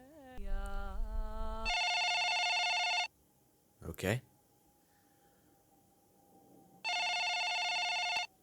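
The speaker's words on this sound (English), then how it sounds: "Telephone noise." A telephone rings in the horror film Midsommar (2019), heard in two loud electronic bursts separated by a quiet gap, with a person briefly speaking and a whooshing noise between the rings.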